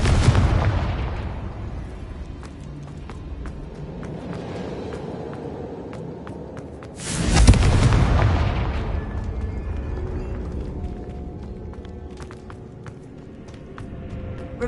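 A Confringo blasting spell explodes in Hogwarts Legacy with a single loud, sudden boom that decays slowly, set over a steady rumbling game soundscape.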